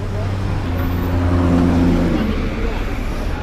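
New York City road traffic surrounds cyclists riding city bikes, a steady, loud close rumble of car engines and tire noise with a rising engine tone passing through.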